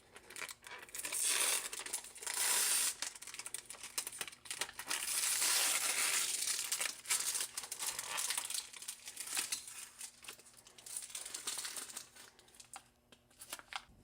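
Plastic packaging crinkles and tears as it is peeled back from a factory engine roller lifter for a Ford 302, a close, busy rustling that comes in uneven waves and fades toward the end.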